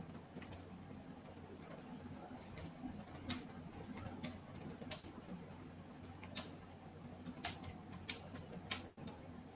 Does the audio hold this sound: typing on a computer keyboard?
yes